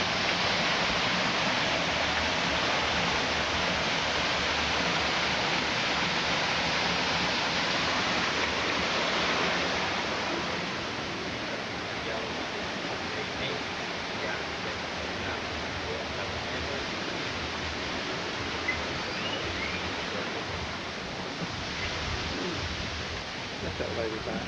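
A waterfall seen on a 2001 cruise shore outing, a broad steady rushing roar of falling water heard alone, strong and continuous throughout and easing slightly partway.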